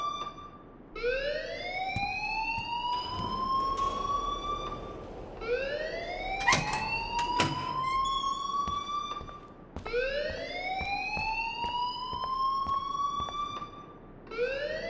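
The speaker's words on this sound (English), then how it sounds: "please turn off that alarm since that's your job" School alarm ringing in the video game Life is Strange: a loud, continuous rising electronic whoop repeating in regular cycles about every four seconds, with occasional sharp clicks and no talking.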